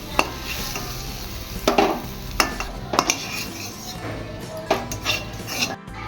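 Sliced onions fry and get stirred in a pan at home while making mixed noodles, a steady sizzle broken by several sharp scrapes and clinks of a spoon against the metal pan, close and clear with no talking.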